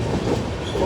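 A passenger train rolling into Nellore city, a brief close rumble of wheels and carriage noise at steady volume.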